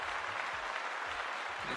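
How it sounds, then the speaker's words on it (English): An audience claps for a D&D homebrew creator, a brief, even burst of applause that holds steady from start to finish with a faint voice underneath. "let us give our dear Devin a good old round of applause"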